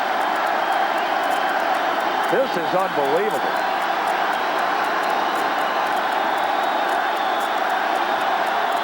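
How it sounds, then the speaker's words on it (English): Loud, steady crowd roar fills a baseball stadium during a 1996 American League playoff game between the Yankees and Rangers, with a broadcaster's voice speaking over it. "You wonder if the crowd noise isn't a little overwhelming right now,"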